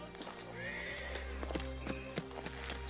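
A horse whinnies in a medieval-style action film scene, with scattered clip-clop hoofbeats and faint background voices, moderately quiet and a little distant.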